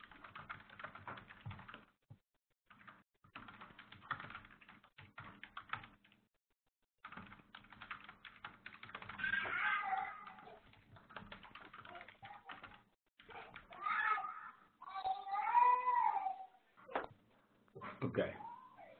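Rapid typing on a computer keyboard to write a message: quick, uneven bursts of close key clicks with short pauses between runs.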